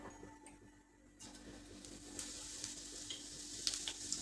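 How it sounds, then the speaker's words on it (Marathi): Cumin seeds hit hot oil in a pan for a bitter gourd stir-fry and sizzle. The sound starts quiet, then a steady close frying hiss swells after about a second and keeps going with small crackles. "आता तेल तापलेलं आहे आपल्याला त्यामध्ये जिरं घालायचे"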